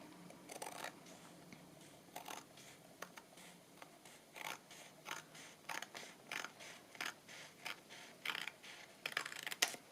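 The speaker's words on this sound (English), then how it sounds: "I might just trim this paper a bit" Scissors trim paper for a patchwork Christmas journal, giving a series of quiet, crisp snips in an irregular rhythm, close up and with no talking.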